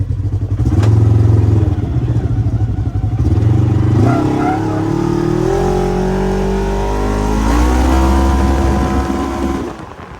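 Polaris RZR XP1000 side-by-side with a GGB exhaust rumbling from inside the cabin, a steady low engine drone rising and falling through revs, loud and continuous for the whole stretch.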